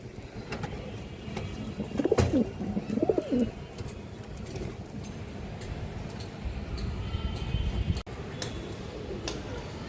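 A breeding pair of pigeons coos in a cage, two short bursts of cooing near the start, while the male pecks at the hen with faint ticking taps amid quiet background noise.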